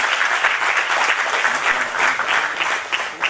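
A press-meet audience breaks into steady, dense applause honoring actor Pandiarajan, a continuous wash of many hands clapping close and loud throughout, with no talk over it.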